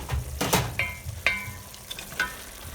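Spicy Sri Lankan mutton curry simmers and sizzles in a pot, with soft bubbling and frying hiss broken by a few clanks and scrapes of stirring.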